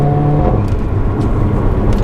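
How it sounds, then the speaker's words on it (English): Mercedes-AMG A45 engine under acceleration, a continuous low droning note with a brief higher tone early on, close and fairly loud, no talk. "the engine note really picks up when you start to put your foot down"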